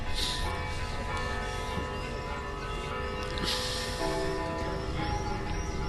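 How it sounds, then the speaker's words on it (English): A chorus of church bells rings continuously through a Corfu cricket match, sustained overlapping peals with strong ringing tones and no pauses, fairly loud amid open-air background. "Chorus of bells."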